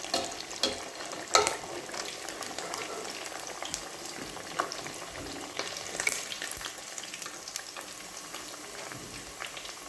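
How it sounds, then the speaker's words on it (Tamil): Masala-coated fish frying in oil for an Andhra-style fish curry, a steady close crackling sizzle with scattered sharper pops throughout, no voices. "நம்ம அப்படியே பொரிச்சு எடுத்துக்கலாம் அந்த மீனை"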